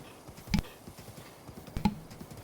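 A big horse in the Breath of the Wild video game steps with a few soft hoof clops, two sharper thuds standing out over low background game sound.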